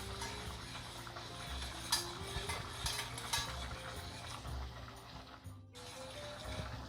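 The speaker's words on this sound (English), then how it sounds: "You're going to toast this for about a minute, stirring." Coarsely ground pepper toasting in butter in a pan for cacio e pepe while being stirred: soft continuous sizzle with scraping and light clinks of a utensil against the pan, close and quiet.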